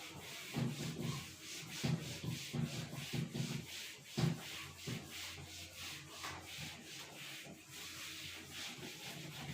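A classroom board is wiped clean of maths writing with rapid back-and-forth rubbing strokes, a close, rhythmic scrubbing that continues steadily for several seconds.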